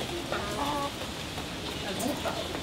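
Hens cluck softly in short bursts close by, with a low murmur of activity and faint rustling underneath.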